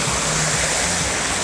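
Steady rushing water pours continuously from a cascade fountain in Kharkiv, a broad loud splash and wash with no pauses and no voices.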